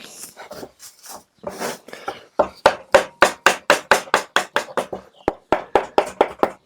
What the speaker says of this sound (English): We're chiseling away at it now.